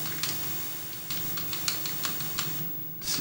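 Flail sound effect from the NES game Defender of the Crown: a series of short, sharp clicking strikes in an uneven rhythm over a low background hum, ending in a brighter hiss, moderately loud with no talk.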